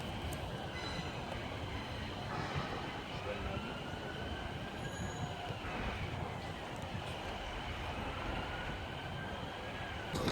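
A Northern passenger train at Carlisle station on the West Coast Main Line, a steady rumbling roar with faint high wheel squeal and a voice talking briefly, heard at moderate distance throughout.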